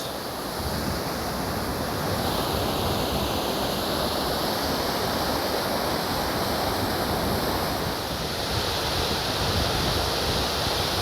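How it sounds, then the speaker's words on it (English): The upper Tuolumne Falls on the Tuolumne River, running with heavy flow, roar as a dense, steady rush of falling water. The roar is loud and constant, with no voices. "This is the upper Tuolumne River Falls"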